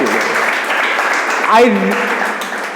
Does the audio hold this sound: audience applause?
yes